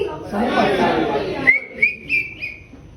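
Audience at a school poetry event in Mumbai whistling, several short shrill whistles rising over crowd chatter, loud and close.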